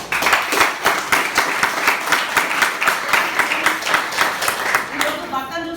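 Women in an audience clap together in a steady, loud burst of applause that runs throughout, with a brief trailing tone near the end.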